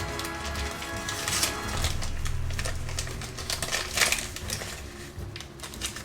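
Small paper bag crinkles and rustles up close as it is opened, a run of dry crackling bursts and papery crunches with no talking.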